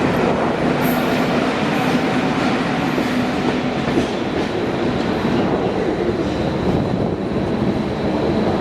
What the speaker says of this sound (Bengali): ক্রস করছে আমাদের ট্রেন হাওড়া মুম্বাই সিএসটিএম মেল